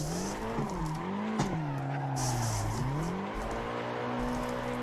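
A car engine held at full throttle while drifting in the racing game Assetto Corsa, a loud sustained engine drone whose pitch dips and climbs as revs swing, with tire noise layered on top.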